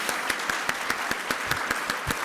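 A conference closing-session audience claps steadily in a sustained round of applause, dense overlapping hand claps with a few sharper individual claps standing out, fairly close and even in loudness throughout.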